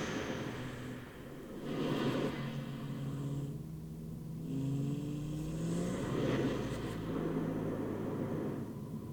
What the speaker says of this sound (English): you can hear some of the main sound effects there from the car and everything driving past